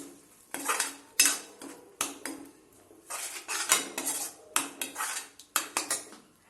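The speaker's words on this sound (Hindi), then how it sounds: "अच्छी तरीके से मिक्स कर लेंगे।" A metal spoon stirring paneer butter masala scrapes and clanks repeatedly against a pan in uneven bursts, close and fairly loud, with short pauses between strokes.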